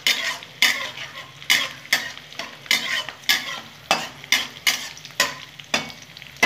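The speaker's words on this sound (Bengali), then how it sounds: "একটু রসুনটা সুন্দর করে ভাজা হয়ে যাবে।" Garlic fries in a pan with a steady sizzle while a utensil scrapes and stirs in a regular rhythm, about two strokes a second, close and fairly loud.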